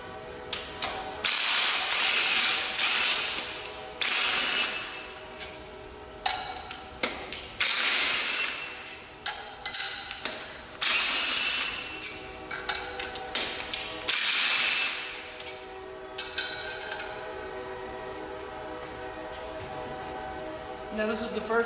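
Impact gun loosening the cylinder head bolts on an engine block whose injector bores show rust, heard as repeated short loud ratcheting bursts with pauses between them.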